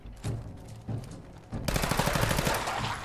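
Gunfire in Fallout 4: a few separate single shots, then a sustained rapid automatic burst running to the end, fairly close and loud with no talking.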